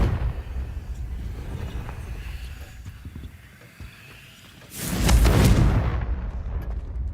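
A Confringo fire-blast spell explodes in the game Hogwarts Legacy: a loud, broad burst erupts near the end and roars for about two seconds over a rumbling game backdrop.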